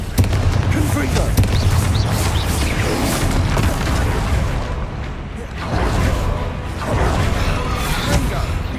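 Spell explosions from Bombarda and Confringo in the video game Hogwarts Legacy, dense repeated booms and crackling blasts filling the whole stretch, with a brief lull midway before another burst, under voiced spell shouts.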